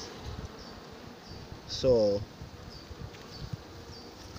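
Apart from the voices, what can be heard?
honey bees buzzing around an open hive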